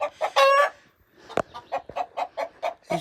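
Hens clucking close by, one laying an egg, in a steady run of short, rhythmic clucks, with one louder drawn-out squawk near the start.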